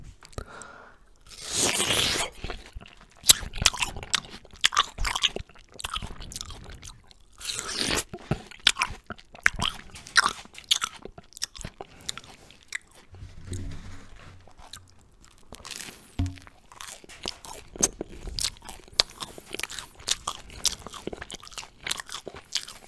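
Close, wet crunching bites and chewing of juicy watermelon, with repeated loud bites and softer mastication in an irregular rhythm, no talking.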